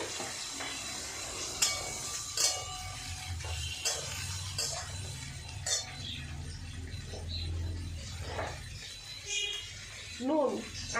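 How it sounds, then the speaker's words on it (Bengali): Jackfruit seeds, potato and pointed gourd fry with onion in a pan, a soft sizzle beneath intermittent stirring clinks and scrapes of a utensil, with a voice talking now and then. "এই পেঁয়াজের সঙ্গে এগুলো ভাজা ভাজা করে নেব"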